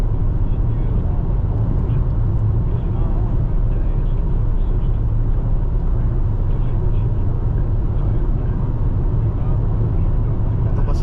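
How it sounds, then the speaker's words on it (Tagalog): A large truck on the road makes a loud, continuous low engine rumble with road roar throughout, steady and close, with no pauses. "Malaking truck na to, may mga buhangin na lumilipad eh."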